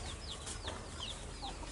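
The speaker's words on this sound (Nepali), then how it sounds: "जसोबिनले हेर्न सक्नुहुन्छ यहाँ विभिन्न जातिका कुखुराहरू पनि रहेका छन्।" Chickens of various breeds on a farm give a few faint, scattered clucks and chirps over a low, steady background hum, with no one talking.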